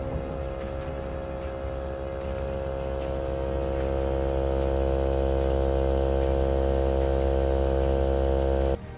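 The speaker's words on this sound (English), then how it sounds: "As soon as I hit start, the pump's gonna kick back on" A pump inside a Cure Puck curing container runs steadily for about nine seconds, a loud, close, even hum with a strong low buzz that holds at one level and then cuts off abruptly at the end.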